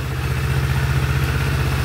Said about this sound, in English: You can hear the motor in this. How it pulses. That's a twin. It's a parallel twin.